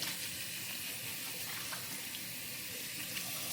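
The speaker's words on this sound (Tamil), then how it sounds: "இப்போ வந்து மிக்ஸ் வெஜிடபிளை கழுவுறேன்." Mixed vegetables washed under a running kitchen tap, making a steady, close hiss of flowing water with faint splashing throughout.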